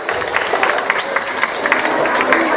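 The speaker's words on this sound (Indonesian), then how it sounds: "Mana tepuk tangannya untuk ketiga lomba tadi?" A crowd at an Isra Mi'raj evening celebration claps for the winners of three competitions, a dense, loud patter of many hands with some voices mixed in, holding steady for the whole moment.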